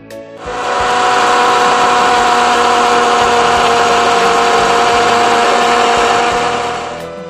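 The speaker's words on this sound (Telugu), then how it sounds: "మిక్సీ పెడదాం." An electric mixer grinder whirs loudly and steadily as it grinds soaked rice, lentils and fenugreek seeds with water, starting up abruptly, holding a dense even whine for several seconds, then winding down.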